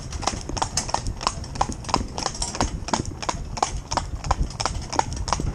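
A ridden horse's hooves clip-clop at a steady walking rhythm on a hard road, each strike close and crisp, repeating evenly throughout.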